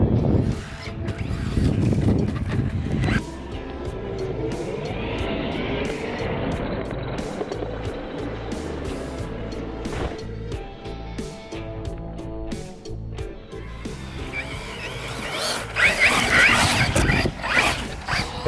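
A Losi Baja Rey 1/10 scale RC truck drives hard across sand, its electric motor whining and surging with grainy scrabbling, loud and continuous, rising to a stronger burst near the end.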